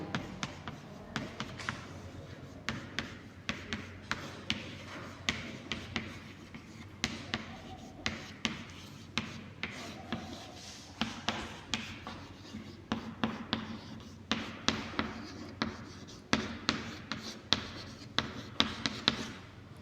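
Pen scratching across paper in steady handwriting strokes, a run of close, quiet scrapes and taps that keep a rhythmic pace throughout.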